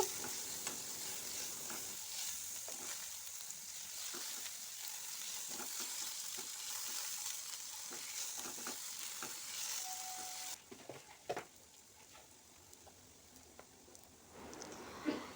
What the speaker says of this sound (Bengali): এইবারে তেলটা গরম হয়ে গেছে, এই কুচনো আলুগুলোকে আমি একে একে দিয়ে দিচ্ছি। একটু ভালো করে এটাকে ফ্রাই করে নেব।